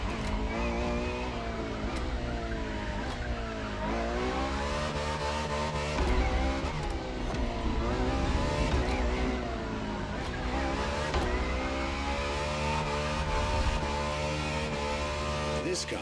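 The FXX-K, a lab-enhanced LaFerrari-based supercar, roars continuously through a race in The Crew Motorfest, its engine pitch sweeping up and down through gear changes with steady loud revving and brief tire noise.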